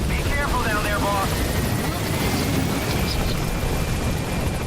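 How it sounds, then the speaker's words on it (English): In the video game Metal Gear Solid V: The Phantom Pain, a helicopter arrives with a loud, continuous rotor thrum and engine roar filling the scene, while a voice speaks briefly over it. "That's a good use of the helicopter intro."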